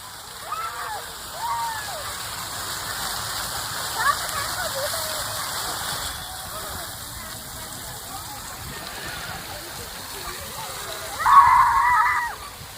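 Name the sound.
park fountain splashing water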